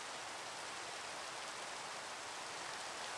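Steady video-game rain hisses evenly throughout, a faint wash of dense falling drops with no talk or other sounds.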